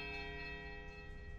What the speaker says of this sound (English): The bell tolls a high, piercing note of startling power.